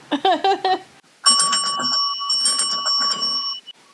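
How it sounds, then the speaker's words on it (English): A trash bell rings with a bright, sustained tone that lingers for a couple of seconds, preceded and accompanied by voices talking nearby. "Oh yeah, the trash bell."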